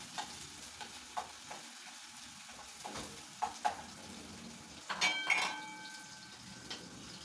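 Onions frying in a pan for an omena recipe, a quiet sizzle broken by scattered spoon taps and a burst of scraping stirs midway, no voices.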